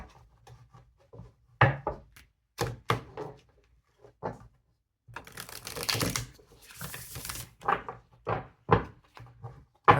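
A tarot oracle card deck is shuffled in irregular bursts of riffling and tapping, with sharp clicks and a longer dense rustle midway, close and alone with no talk.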